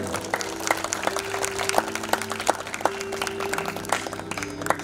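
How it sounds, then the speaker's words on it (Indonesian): A theatre audience applauds after a monologue performance, with dense, steady clapping from many hands that keeps going for about five seconds. A few cheers rise above it. "Kita sambut dengan aplaus yang merah kepada Zander Deden."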